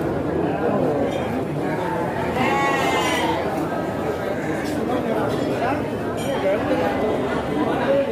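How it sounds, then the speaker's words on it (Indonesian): Garut sheep bleat repeatedly amid the din of the Pasar Andir livestock market, their wavering calls rising over continuous crowd chatter and people talking nearby. "Domba super di Pasar Andir."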